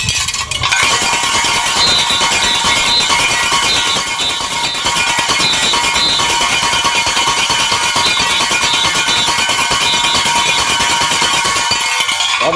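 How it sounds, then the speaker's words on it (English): A Junkanoo cowbell and whistle play together in a dense, loud, continuous din, with the metallic clanging keeping a rapid steady rhythm under repeated shrill whistle blasts throughout. "this is the sound of the cowbell and the whistle together"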